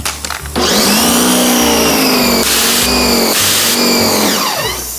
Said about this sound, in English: now that we got my janky compressor pressure washer hooked up